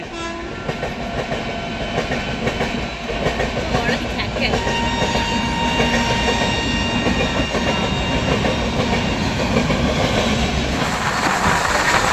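The Rajdhani Express from Dibrugarh to New Delhi rushes past close by with a loud, continuous roar and rhythmic wheel clatter, and a horn sounds partway through.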